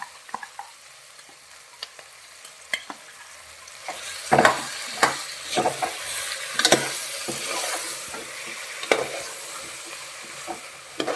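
Masala fries in a pan for ivy gourd (dondakaya) curry: a steady close sizzle, with scraping stirs growing louder and busier midway through, and no talking.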